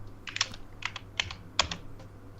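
Typing on a Wooting computer keyboard: a handful of sharp key clicks in small irregular clusters, close and fairly quiet over a low hum, with no talk.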